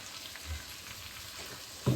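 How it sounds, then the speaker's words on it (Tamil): Ground tomato paste added to frying vegetables for a vegetable kuruma: a soft, steady sizzle close by, with a brief louder burst at the end, quiet overall and no voices. "இந்த நேரத்துல நம்ம அரைச்ச தக்காளி பேஸ்ட்டை ஊற்றிக்கலாம்"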